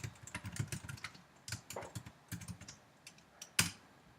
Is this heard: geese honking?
no